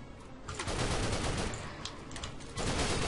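An upgraded weapon in the video game The Haunted: Hells Reach fires in loud, continuous rapid bursts, a dense machine-gun rattle lasting throughout with no pause to reload.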